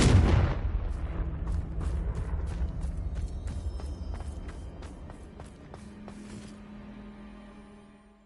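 Confringo blasting spell from Hogwarts Legacy fired with a loud burst and rumbling explosion, followed by a series of crackling debris impacts and a fading low rumble, no talking.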